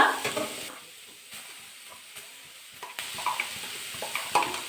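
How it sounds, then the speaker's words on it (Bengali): Cauliflower is stirred in a frying pan, giving a soft, intermittent sizzle with light scraping and clinking of the utensil, briefly louder at the start and near the end. "কপিটা একটু নাড়া নাড়াচাড়া করলাম প্রথমে এক মিনিট"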